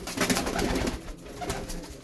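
Racing pigeons in a loft give soft, rounded coos, several low murmuring calls overlapping at close range with a faint rustle behind them and no voices.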